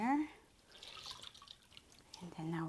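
Water rinses a newborn baby during a sponge bath on a countertop: soft trickling and dripping, close and quiet, with a voice heard briefly at the start and end.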